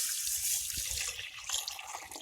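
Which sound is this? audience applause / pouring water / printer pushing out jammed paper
pouring water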